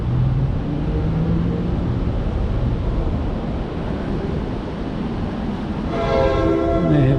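Newark City Subway light rail train rumbling loudly and steadily nearby, with a sustained multi-tone horn blast sounding near the end.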